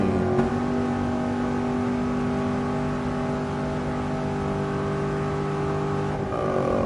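A Mercedes-AMG GT Black Series engine holds a loud, steady high-rev drone at speed on the Nürburgring, heard from inside the cabin, with a brief shift-like dip near the start and another near the end.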